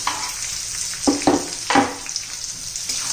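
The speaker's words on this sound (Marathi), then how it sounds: "फक्त कच्चेपणा दूर होईल, ट्रान्सपरंट होईल अशा प्रकारे परतून घ्यायचंय" Chopped onion sautéing in a pan for a dill greens curry, a soft steady sizzle with a few brief scraping stirs, close and fairly quiet.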